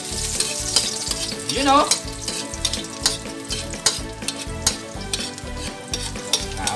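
Garlic sizzles and crackles steadily in hot oil while being stirred in a pan for Filipino Bicol Express, a continuous frying hiss with scraping stir strokes, and a brief voice speaks near the end.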